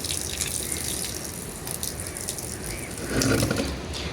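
Rainwater tipped out of a container holding a mint plant, a short broadband gush and splash of water with a heavier surge near the end, close and fairly loud, with no voices.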